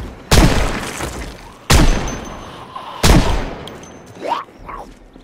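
Gunfire in the zombie survival game Project Zomboid: three loud, close single shots spaced over a few seconds, each with a booming tail, followed by faint thuds.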